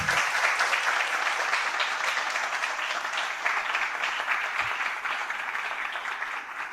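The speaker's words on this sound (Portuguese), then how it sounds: "peço um aplauso para vocês que estão aqui hoje" An audience applauds after a theatre performance of Suindara by Cia Trecos in Mundos at a festival, a full, sustained burst of many hands clapping at steady volume, tapering slightly toward the end.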